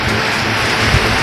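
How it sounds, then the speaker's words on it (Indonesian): Rain falls steadily at a campsite beside Lake Buyan in Bali, a dense, loud, unbroken hiss with no talk and no pauses. "Hujan."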